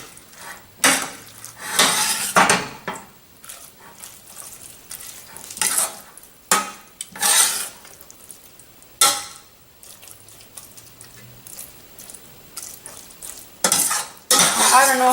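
Rinsed noodles being stirred into a spicy peanut sauce in a bowl, with close, wet clatters and scrapes of a utensil against the dish arriving in irregular bursts between short pauses.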